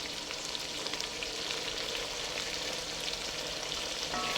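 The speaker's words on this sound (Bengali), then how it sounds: "আমি মাঝখানে একটু এর মধ্যে কাঁচামরিচ দিয়ে দিচ্ছি" Old Dhaka-style khatua fries in a pan as green chilies go in, a dense continuous sizzle holding steady and close, with no talking.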